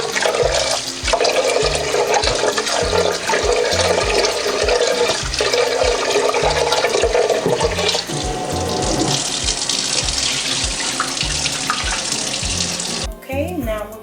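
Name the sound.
rinsing rice with water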